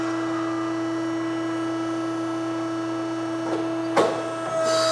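Hydraulic tube bender retracting its pressure die while bending frame rails, a steady electric hum with a constant tone, then a short mechanical clunk and hiss near the end.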